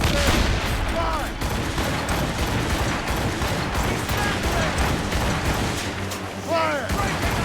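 A ship's cannon broadside roars in a naval ambush in Assassin's Creed Rogue, with dense overlapping booms and crackling gunfire, seagull cries and shouting crew voices throughout.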